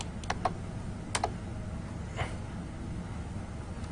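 Keys tapped on a computer keyboard while a VTP domain name is set during a networking lecture on virtual LANs, a few sparse clicks over a steady low hum, then quiet.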